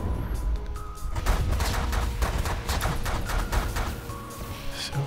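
Wall-mounted turrets firing in the video game TLF: a rapid, uneven volley of sharp shots over a low rumbling game backdrop, loud and close, continuing for several seconds.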